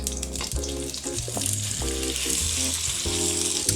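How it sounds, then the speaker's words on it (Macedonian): Chicken frying in coconut oil in a pot, a steady bright sizzle throughout beneath background music. "Ќе пржиме во кокосовото масло."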